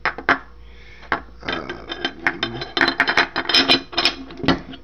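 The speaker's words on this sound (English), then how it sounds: "Put the gun back together. It's real simple." A Glock 19 Gen 4 pistol is put back together by hand, giving dense metallic clicks, slides and rubbing of parts at close range, with a few sharper snaps and no talking.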